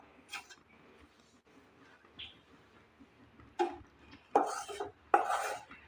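Fresh grated coconut dry-roasting in a pan for coconut sweets, with intermittent scraping and stirring strokes of a spatula, a few louder scrapes toward the end over a quiet background.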